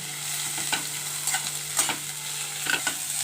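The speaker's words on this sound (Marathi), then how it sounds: "इथे मी कांदे असे भाजून घेते अगदी जास्त आपल्याला लाल नाही करायचे" Onions sauté and sizzle in a pan as a spoon stirs them, giving a steady frying hiss with soft scraping strokes. The sound is close and continuous, with no voices.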